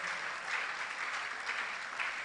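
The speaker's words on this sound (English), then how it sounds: "Let's keep clapping till she gets here." Steady, dense applause from a seated audience at a conference event, continuous clapping without pause as a speaker is welcomed to the stage.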